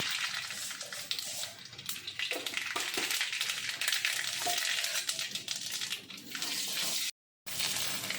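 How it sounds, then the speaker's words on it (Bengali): Dried red chillies and mustard seeds sizzle in hot oil in a kadai, a steady, moderately faint hissing crackle that holds evenly and then cuts out briefly near the end. "এবার আমি কড়াইতে তেল দিয়েছি, দেখুন গরম হয়েছে। এবার দুটো শুকনো লঙ্কা দিলাম। এবার আমি সর্ষে ফোড়ন দিলাম।"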